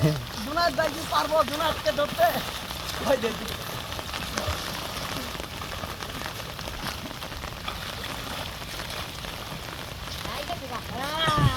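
Heavy monsoon rain pours down near a river in a steady dense hiss close to the microphone, while voices and distant shouts carry on over it.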